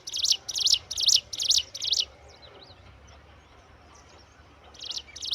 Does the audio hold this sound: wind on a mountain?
no